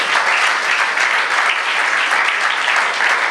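A church congregation clapping hands together during a Tamil sermon, a loud dense burst of applause that holds steady throughout with no voices on top.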